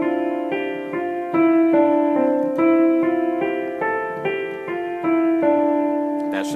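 Piano notes in a stepwise Hanon exercise pattern blur into one another because the fingers are not lifted, each key ringing on under the next in a steady, moderately loud run.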